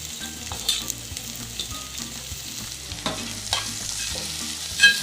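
Grated cabbage sizzles in a hot pan for restaurant-style veg Manchurian, a steady close frying hiss broken by occasional stirring scrapes and clinks, with no talking.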